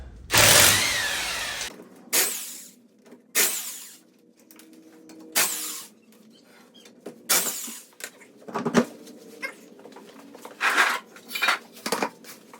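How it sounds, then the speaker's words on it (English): Wheel nuts come off the front wheel of a 1973 VW Westfalia with a 19 mm socket, producing a series of sharp metallic clanks and rattling bursts separated by brief pauses, loud and close with no voices. "Okay, I got a 19 millimeter socket. Let's go ahead and remove the tire out."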